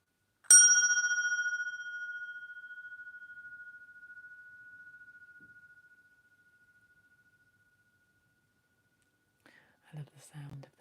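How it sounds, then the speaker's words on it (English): A single bell struck once during a quiet healing meditation, a clear bright ding that rings on and slowly fades over several seconds in near silence, followed by faint soft rustling. "I love the sound of the bell."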